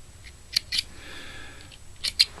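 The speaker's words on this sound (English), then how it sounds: "So I'm going to come in and cut to the next notch here." Scissors snip through brown rubber legs on a stonefly nymph fly at the tying bench: two close, crisp cuts near the start and two more near the end, with quiet pauses between.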